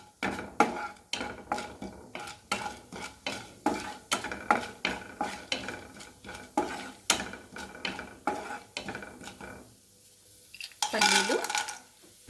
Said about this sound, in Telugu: పల్లీలు కొంచెం ఫ్రై అయ్యేదాకా వేయించుకుందాము